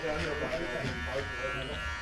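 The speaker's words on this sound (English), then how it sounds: "I'm feeding the clipper with the comb." Electric hair clippers buzz steadily while a barber feeds hair through them with a comb, a close continuous drone with slight fluctuations.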